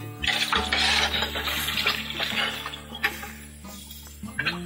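Water is poured and splashes loudly and unevenly at close range, tapering off, with a steady hum and tonal background noise underneath.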